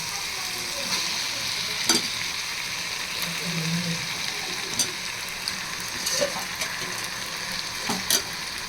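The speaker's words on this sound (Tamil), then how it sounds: "இதுலையும் சேர்த்து தக்காளி வெங்காயத்தோடு ஃப்ரை பண்ணணும்." Mutton liver frying with tomato and onion in a pan, a steady bright sizzle with occasional stirring scrapes and clatters, close and continuous, no talking.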